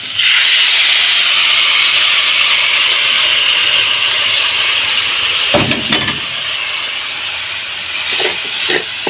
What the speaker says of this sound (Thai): แล้วก็ตามด้วยน้ำซอสของเราเลยครับ